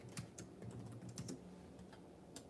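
Fingers typing on a computer keyboard, quiet irregular key taps over a low steady background hum, close and without speech.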